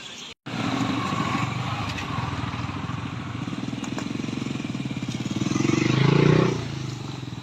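Motorcycles set off together at the start of a long-distance ride from Kanyakumari to Ladakh, engines chugging steadily close by and revving up louder for a moment before settling again.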